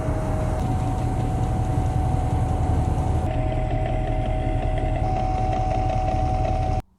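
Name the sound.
slab saw cutting a thunderegg rock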